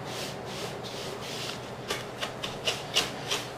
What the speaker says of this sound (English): a good wire whisk to get a good even mixture